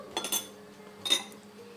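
A spoon clinks and scrapes against a metal pot of cheese sauce with vanilla essence in two short bursts, quiet and close, with a pause between.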